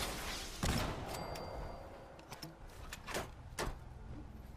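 Missile launcher fired in Fallout 4: a heavy launch thump followed by rumbling blasts and a few sharp cracking impacts over a constant low background, no voices.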